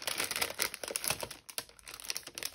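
Plastic packaging around a bundle of cabinet cards crinkles and crackles continuously at close range as it is handled.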